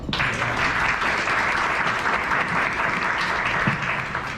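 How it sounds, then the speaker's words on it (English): A crowd claps steadily and loudly throughout, a dense, continuous round of applause with no pauses. "So how about a round of applause?"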